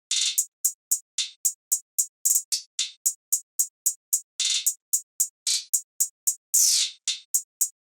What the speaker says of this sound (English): We have this open hat pattern right here,